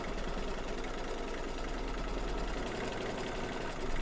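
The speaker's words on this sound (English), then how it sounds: "now it's going to stitch the outside down and then stitch the inside down" An embroidery machine stitches a bowl cover with a fast, even, mechanical chatter, quiet and steady throughout, with no voices.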